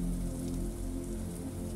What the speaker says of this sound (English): The weather forecast calls for the rain to get steadier and last into the early morning hours